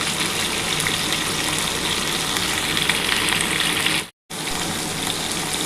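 Mixed vegetables for Bengali shukto fry steadily in a pan, a dense close hiss that holds at an even level, broken by a brief cut to silence before resuming.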